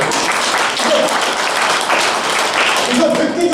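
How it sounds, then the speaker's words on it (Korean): Steady, dense applause from a seated audience at a Yonsei University executive course lecture, filling the room for several seconds, with a few voices briefly audible through it. "박수 한번 쳐주세요"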